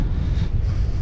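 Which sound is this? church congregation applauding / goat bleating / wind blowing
wind blowing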